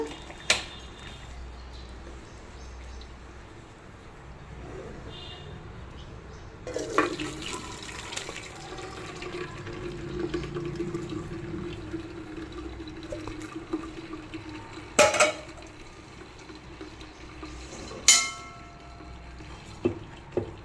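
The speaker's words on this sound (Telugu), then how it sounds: "ఇప్పుడు ఇందులో స్ట్రైనర్లను మనం వడకట్టేసుకోవాలి ఈ గిన్నెలోకి." Cooked vermicelli is drained through a strainer into a bowl, with water trickling and splashing in a soft steady flow, broken by a few sharp clanks of metal near the end.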